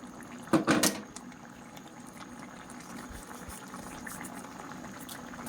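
A second extract of coconut milk boils in a pot with a soft, steady bubbling and simmering. A brief louder knock or clatter comes early, then the faint, even boil continues alone.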